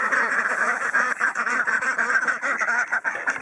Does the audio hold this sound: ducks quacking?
yes